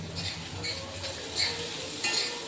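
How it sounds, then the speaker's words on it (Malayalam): Onions sputter and sizzle while frying in a fish pot, with steady crackling hiss broken by a few brighter pops and faint utensil scrapes nearby. "ഉള്ളിയൊക്കെ തെറിച്ച് തെറിച്ച് പോകുന്നുണ്ട് മീൻചട്ടി കിടന്നിട്ട്"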